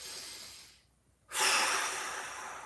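Slow, deep breaths during a mobility exercise session: a long audible exhale fades into a pause of near silence, then a strong, close inhale rushes in and gradually tapers off.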